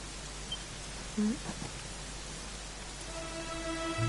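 Steady rain falls in a Dragon Quest XI scene, a soft continuous hiss with a faint tonal tone entering near the end, no talking.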